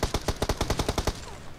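A rapid burst of automatic gunfire in PUBG Mobile, about ten sharp evenly spaced shots firing close and loud over roughly a second before stopping into quieter game ambience.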